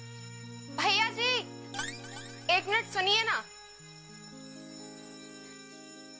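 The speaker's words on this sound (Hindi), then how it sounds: "फिर ये घंटी की आवाज कैसी?" A school mess bell rings in clear repeated bursts with a ringing, tinkling tone that lingers after each burst, while a voice briefly speaks nearby.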